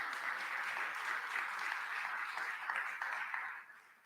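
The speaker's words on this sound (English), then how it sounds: "you should be clapping again" An audience at a community town hall for a bridge park project applauds steadily for about three and a half seconds, a dense wash of claps at moderate distance that fades out at the end.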